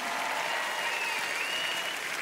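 Audience at a French music awards ceremony applauding, a dense, even, sustained roar of clapping filling the hall with no break.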